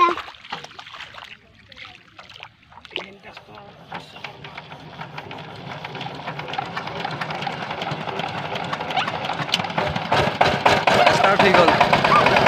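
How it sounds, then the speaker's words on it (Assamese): A hand tractor engine starts up in a farm field, sputtering at first and then building into a steady, louder running chug, with voices talking over it early on. "আৰু হেণ্ড ট্ৰেক্টৰখন ষ্টাৰ্ট দিব এতিয়া"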